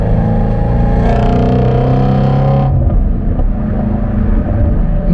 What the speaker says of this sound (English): Adjustable exhaust, that makes a huge difference, as you guys can hear.